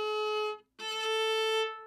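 Viola sounds two sustained bowed notes separated by a brief gap, the second played out of tune with the fourth finger placed flat, with a clear, close, bright tone and no talking.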